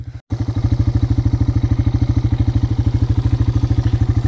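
A Honda Big Red four-stroke engine on a tracked sled idles loudly and close, with an even, rapid chugging pulse after a brief cut at the start.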